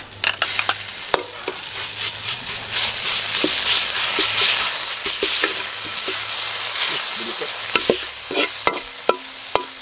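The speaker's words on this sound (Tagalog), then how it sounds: "Gigisa na po tayo mga kagutom. Bawang, sibuyas, kamatis." Garlic, onion and tomato sauté loudly in a pan, a dense continuous sizzle with frequent sharp clicks of a spatula stirring against the metal.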